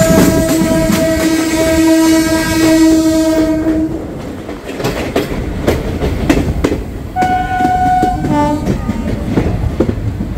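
A Kolkata–Digha special fare passenger train rattles along the tracks with steady clickety-clack, while its horn sounds loudly in two long, sustained blasts, the first lasting several seconds and the second shorter, close by.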